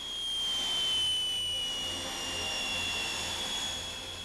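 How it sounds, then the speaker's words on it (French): A Fokker F-27 turboprop airliner taxiing toward the runway gives off a steady, continuous engine whine with a high tonal note and a low rumble underneath, held at a fairly even level throughout. "l'avion roule vers la piste"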